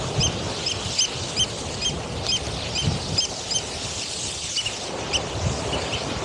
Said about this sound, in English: There's lots of birds.